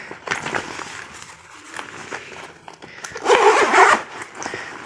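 Zipper on a school bag pulled open and closed, giving raspy scraping strokes at close range, with one longer, louder pull near the end and some faint handling noise in between.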